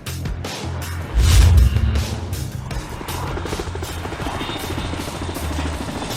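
Helicopter flying nearby, its rotor giving a steady rapid chop with engine roar; a loud low thud near the start swells briefly before the beating settles into a continuous drone.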